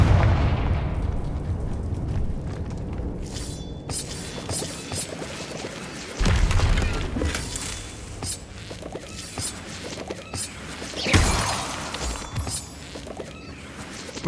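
Fiery spell blasts boom and crash in the Hogwarts Legacy video game, several loud explosions scattered irregularly through a busy combat soundscape, with bursts near the start, middle and end.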